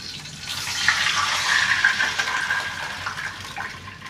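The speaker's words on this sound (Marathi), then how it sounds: "आता आपण याच्यामध्ये पाणी घालायचं" Water being poured into a cooking pan over chillies while making khaman dhokla, a steady gushing splash lasting about four seconds with no talking.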